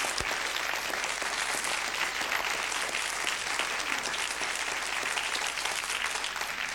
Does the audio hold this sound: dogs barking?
no